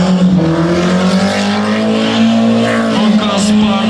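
A Volvo doing a burnout at the PoorBaltics Burnout Challenge 2023 in Priekule, Latvia, its engine droning loud and steady with tire roar throughout, and crowd or commentary noise mixed in.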